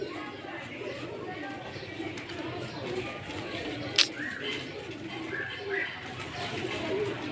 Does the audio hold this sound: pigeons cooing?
yes